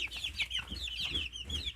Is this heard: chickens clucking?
yes